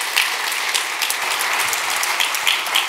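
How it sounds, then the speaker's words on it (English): An audience at a design conference applauds a guest coming up on stage, a dense, steady wash of clapping, loud and continuous without speech. "Applause for Maria, please."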